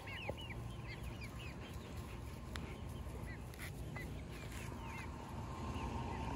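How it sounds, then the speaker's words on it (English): A lone chicken at a backyard fish farm clucks softly at a distance, with short scattered calls over low steady background noise and no talking. "Got a lone chicken over there."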